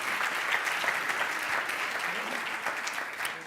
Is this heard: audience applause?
yes